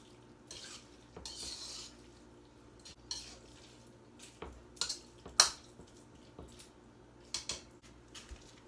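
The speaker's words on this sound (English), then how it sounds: "I'm going to mix a little bit of milk in this just so it'll stir easy" Spoon stirring milk into a ground meat mixture for stuffed bell peppers in a bowl, irregular scraping and clinking strokes, close and fairly quiet, with no talking.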